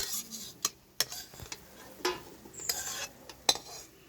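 A pan of sooji halwa being taken off the stove, with sharp metallic clanks and a few softer scrapes and taps, close by and without talk.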